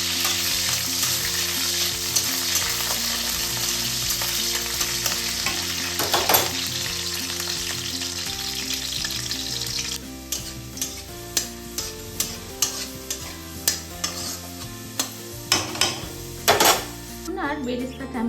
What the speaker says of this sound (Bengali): ওই বেরেস্তা তেলেই আমি একটু লুচিটা ভেজে রেখে দেবো।